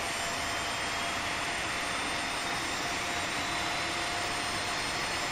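Boeing 737-300 number 2 jet engine running in X-Plane 11, a steady, loud broadband roar with a high whine, unbroken and alone throughout.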